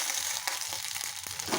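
Green chillies fry in a pan for a village-style peanut and green chilli chutney, giving a steady close hiss of sizzling oil with a few faint clicks of stirring, and no voices.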